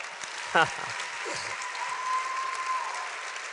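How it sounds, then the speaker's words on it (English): Audience applause at a conference fills the hall, steady clapping throughout, with a voice speaking briefly over it early on. "Can we give her another round of applause, please?"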